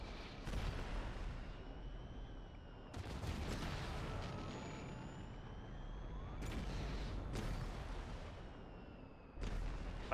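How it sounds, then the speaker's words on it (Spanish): Blaster gunfire in the Lego Star Wars Skywalker Saga game, several bursts of rapid shots and impacts separated by brief gaps, punchy and loud over a busy battle background. "con un disparo ya te cargas a todos esos"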